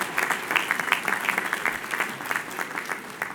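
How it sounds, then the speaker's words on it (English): An audience claps for Miss Ann Tucker, a teacher with 58 years of teaching in Mississippi. The applause is steady and dense, with many hands, and runs throughout. "a round of applause."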